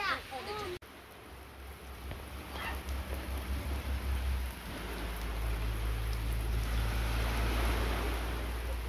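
Steady rain falls on a beach alongside the wash of surf, a continuous hiss that grows louder over several seconds, with people talking nearby.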